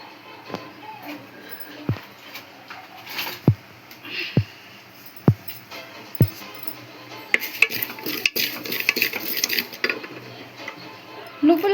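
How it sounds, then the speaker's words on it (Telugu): Sesame seeds dry-roast in a clay pan as a spoon stirs them, giving sparse sharp ticks and scrapes that build into a denser patter of crackles and clinks. "నువ్వులు అయితే ఇట్లా డ్రై రోస్ట్ చేసేయాలి"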